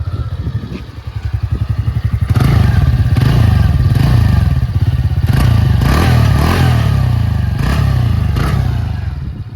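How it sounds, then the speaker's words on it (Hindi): A TVS NTorq 125 XT scooter's exhaust note is heard up close, a loud, thumping idle that rises into a steady rev with rhythmic pulsing and some mechanical clatter. "फिर अभी आपको सुनाते हैं एग्जॉस्ट नोट का साउंड"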